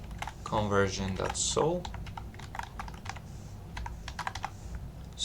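Close, rapid typing on a computer keyboard while a file name is entered, with clicky keystrokes in irregular bursts after a short spoken phrase and continuing alone.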